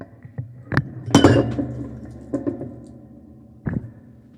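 Last quarter of a glass of water spilled onto a computer tower, heard as sharp glassy clinks and a brief rattling clatter followed by a few scattered knocks, close and fairly loud.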